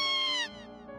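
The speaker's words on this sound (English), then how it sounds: "What was that, a cat? I guess that was a cat." A cat meows once in a visual novel game, a clear, shrill cry close at hand that tails off into quieter background sound.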